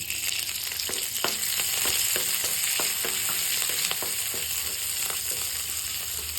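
Sliced onions and green chillies fry lightly in hot oil, giving a steady close sizzle with scattered crackles and pops throughout, no talking.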